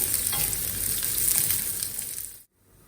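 Shallots and mustard seeds sizzle steadily in hot oil for a Kerala-style kadala curry, a dense close crackle with stirring that cuts off abruptly near the end, leaving faint quiet.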